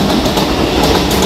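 Loud, steady rumble and clatter from inside a moving Mumbai local train, wheels rolling continuously with broad rail noise and no speech.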